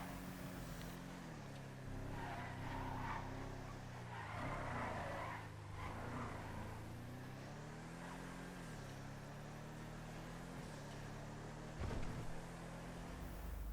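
Engine drone of the Glendale, a GTA V car modelled on the Mercedes-Benz W114/115, driving steadily with pitch shifting up and down as it accelerates, plus a brief skid-like burst near the end; no talk.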